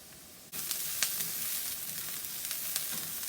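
Chopped onion sautéing in plenty of hot oil in a pan: a quiet moment, then a sudden, steady crackling sizzle with small pops, continuing evenly to the end.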